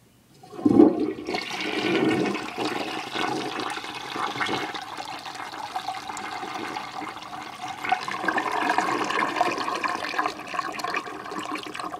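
A toilet flushes soap and a gum package, opening with a sharp clunk of the handle. A loud, steady rush of swirling water follows and continues to the end.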